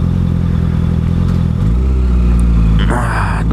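A motorcycle is ridden as everyday transport, its engine droning steadily close by before the revs rise with a shift, a loud continuous rumble with some clatter.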